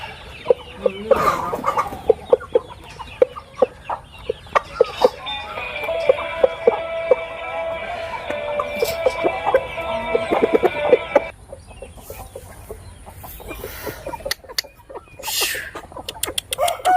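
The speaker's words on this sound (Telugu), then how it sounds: "ఇది బాగా మంచి వరస, మంచి రెక్క వరస, ఎన్నుబారు, మంచి ఎగ్గాల కోడిపుంజు." Roosters and hens at a gamefowl breeding unit cluck and call close by, with sharp intermittent knocks and a sustained squawking stretch in the middle over steady farmyard noise.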